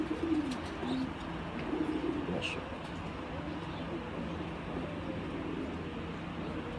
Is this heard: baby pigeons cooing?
yes